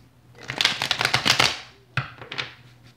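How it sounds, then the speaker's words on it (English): Tarot cards being shuffled by hand: a rapid riffling burst of crisp flicks for about a second, then a short pause and a few quicker snaps, close and clear with no voice. "One last shuffle."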